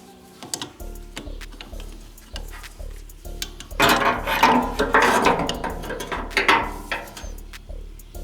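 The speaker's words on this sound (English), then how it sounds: "I don't have a wrench that size, so I'm going to use a crescent wrench for that." A crescent wrench working a 29 mm nut on a VW Bug engine, giving close metallic clicks, scrapes and knocks in an irregular series that grows busier and louder midway.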